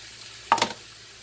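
Zucchini noodles hit hot olive oil in a pan, giving one brief, close sizzling burst with a few crackles that fades quickly to a quiet background.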